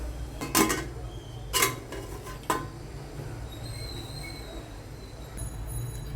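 Metal lid lifted off a steaming cooking pot of masala rice in a home kitchen, giving three sharp clanks close by, then a low hum with no talk.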